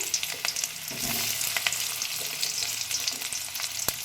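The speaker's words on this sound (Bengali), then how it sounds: "পেঁয়াজগুলো দিয়ে একটু জাস্ট সতে করে নেব" Onions fry in mustard oil in a kadai with a steady, bright sizzle and crackle, broken by occasional stirring scrapes and pops, close and moderately loud with no talking.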